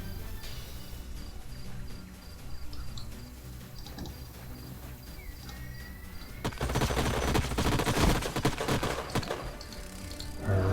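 Combat fire from Age of Wonders: Planetfall bombards a biocannon: rapid rattling bursts of gunfire swell into a dense, loud barrage midway, over a steady background hum and faint game tones.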